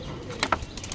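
A blind pigeon at Rakesh-da's house gives a couple of brief, soft calls in quick succession, close by, over faint background hiss.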